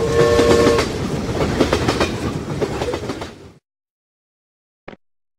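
A train rolls past on rails, loud and close, with a rumbling clatter of wheels and brief tonal squeals for about three and a half seconds before cutting off; a short click follows after silence.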